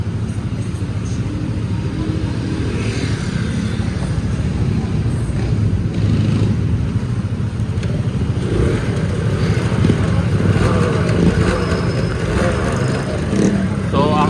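A Yamaha TZR 250R two-stroke sports motorcycle engine runs at idle around 1200 RPM after a kickstart, a steady, loud, buzzing drone that continues throughout with only slight changes.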